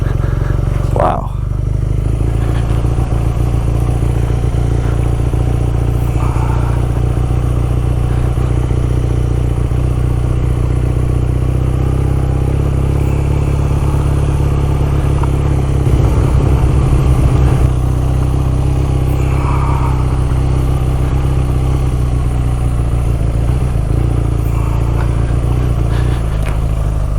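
BMW R nineT motorcycle cruising along a road, a steady low engine drone with wind rumble running throughout, with a brief louder clatter near the start and slight swells midway.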